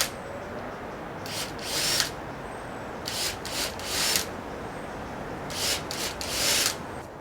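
Countersink bit cutting into drilled mounting holes in wood for a cabin rebuild, three separate bursts of close, rasping grinding, each lasting about a second, with quiet pauses between.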